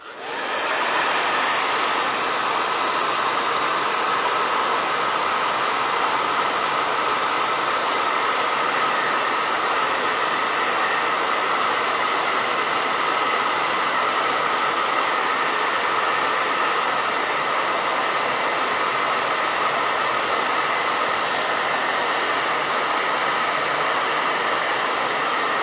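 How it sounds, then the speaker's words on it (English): A hair dryer blows steadily and loudly at close range for a long stretch while drying a wet watercolor painting, a constant whooshing hum with no talking. "So I'm going to blow dry real fast"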